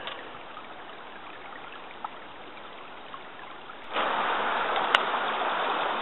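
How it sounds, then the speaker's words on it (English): Creek water flows steadily nearby on a winter thaw day, a soft continuous rush that swells louder partway through, with a few faint knocks. "And still quite a lot of water flows down through here."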